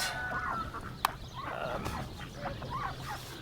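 Farm fowl on a winter morning call out in a series of clucks and squawks, with one sharp nearby cry standing out above a soft steady background hum.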